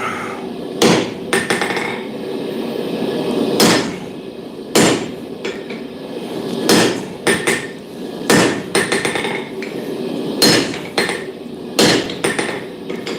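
Hammer blows upsetting a hot 20mm square steel bar on an anvil, about a dozen loud ringing strikes in an irregular rhythm with short pauses between groups, close by and without speech.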